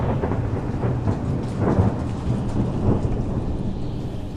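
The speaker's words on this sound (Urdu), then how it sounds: "بادلوں کی گرج کے ساتھ بارش اور تیز ہو چکی تھی۔" Loud thunder rumbles over steady heavy rain in a stormy night scene, with deep rolling booms swelling around the middle of a continuous downpour; no voices.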